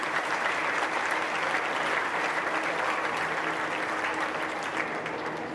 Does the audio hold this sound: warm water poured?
no